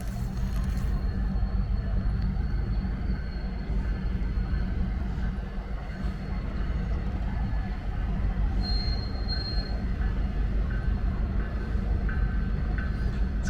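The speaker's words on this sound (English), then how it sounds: "At least I got to see the train here." Freight train with a caboose on the Nickel Plate line in Noblesville, rolling past with a continuous low rumble and faint, intermittent wheel squeal, heard from a moderate distance with no talking.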